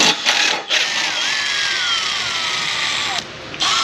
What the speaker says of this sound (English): Unbolting the rubber hanger.